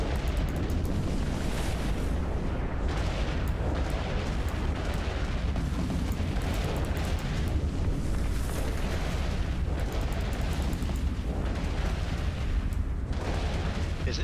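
A constant barrage of booming explosions comes from ships firing on a tower in the space game Eve Online, a loud, dense rumble with repeated blasts overlapping throughout.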